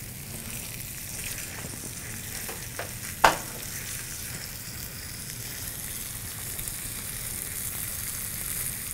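Chicken sears in a hot pan for a quick roast chicken with root vegetables, a steady close sizzle and crackle running throughout, with one sharp clatter of the pan or utensil partway through.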